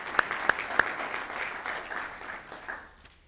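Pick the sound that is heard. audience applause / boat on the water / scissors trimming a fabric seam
audience applause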